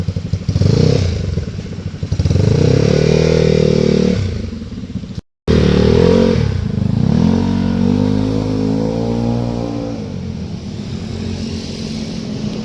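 A motorcycle fitted with a prototype half-baffle exhaust revs loud and close. It makes long sustained throttle pulls with a brief cut in the middle, and the engine stays harmonically rich and droning throughout.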